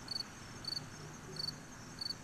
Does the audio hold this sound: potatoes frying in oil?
no